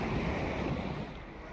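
Waves on the Kerala coast make a brief, steady wash of surf with some wind noise, filling the whole short stretch with no voices.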